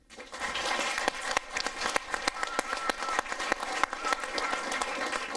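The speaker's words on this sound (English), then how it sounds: "give my man Chris a round of applause" A live audience at a Vemma Self Made event applauds a speaker named Chris, with dense, sustained clapping that swells quickly and stays loud throughout, with a few whoops mixed in.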